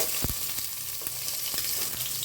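Onion fries in hot ghee in a pan for vegetable pulao, giving a steady, close sizzle with a few soft stirring knocks.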